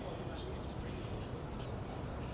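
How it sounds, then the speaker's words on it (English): Ducks quacking and other birds calling by an old preserved drainage ditch at the former Kowloon Walled City site, a steady busy chorus of calls close by. "The birds are drinking from the water."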